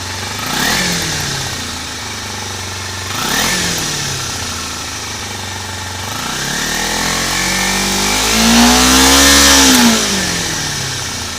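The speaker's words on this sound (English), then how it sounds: "We'll do one more exhaust test here." A not-yet-warmed-up motorcycle engine revs up three times over a steady idle, the last rev longer and louder, with a throaty exhaust note close by.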